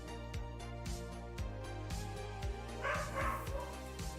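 Dogs bark repeatedly in a steady rhythm, fairly quiet and somewhat distant, with a few higher yips mixed in.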